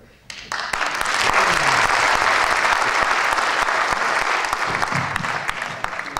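Audience at a village presentation event breaks into loud, sustained applause that swells within the first second and carries on evenly with dense clapping until the end.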